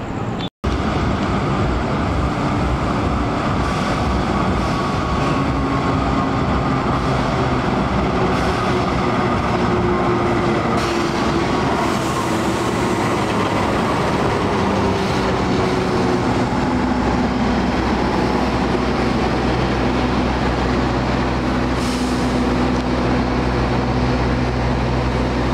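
The Argo Bromo Anggrek executive and luxury-class train from Gambir to Surabaya Pasar Turi rolls onto track 2 at Gambir station, a loud, steady rumble of wheels and cars that lasts throughout.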